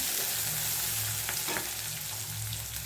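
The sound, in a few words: sautéing onion, dried red chillies and curry leaves in oil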